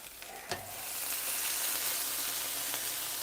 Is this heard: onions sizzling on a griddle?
yes